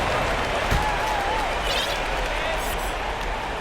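Steady basketball arena crowd roar from NBA 2K22, a dense continuous wash of cheering and applause filling the whole stretch, with a commentator's voice talking over it.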